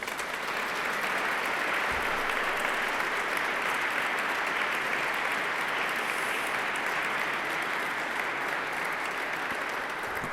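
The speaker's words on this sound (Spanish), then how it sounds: "pues damos un aplauso a todos" Sustained, dense applause from an audience honouring priests at a church tribute ceremony, steady and even for the whole stretch, with no pauses.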